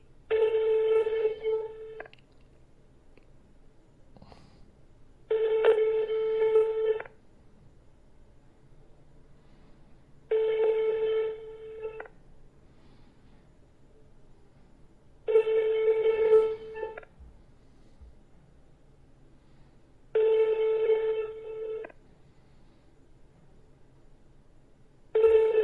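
A telephone ring tone repeats while a call waits on hold to be answered, six evenly spaced bursts of about two seconds each with quiet gaps between them, clear and steady.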